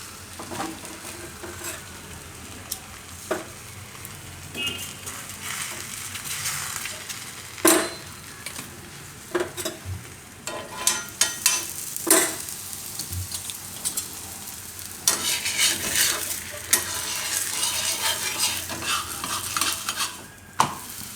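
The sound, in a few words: green onion mint thepla flatbread frying in oil on pan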